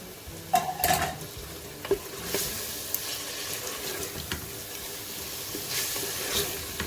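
Okra and onions fry in hot oil for a bhindi gosht dish, with a steady sizzle under scraping spoon stirring and a few sharper clinks against the pan.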